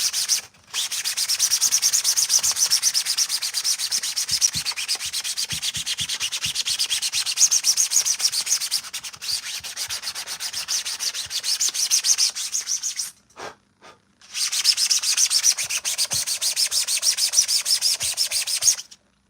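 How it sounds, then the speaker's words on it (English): Glazing spot putty is sanded down on custom Mandalorian armor, a close, steady hiss of abrasive rubbing in long runs with a couple of brief pauses. "glazing spot putty on top there, and then you're just sanding it down"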